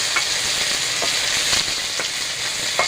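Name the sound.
spice pastes frying in a pan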